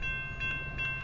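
Train sound effect: steady low rumble of rolling stock with faint tonal whistle-like lines, brief and fairly quiet, no voices.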